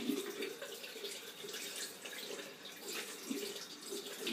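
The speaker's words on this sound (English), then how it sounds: "what we're going to do now is we're going to get our brush and we're just going to wet it" Running tap water pours over a hair brush being wet at a sink, a soft, steady hiss and splash heard faintly and continuously, with no voices over it.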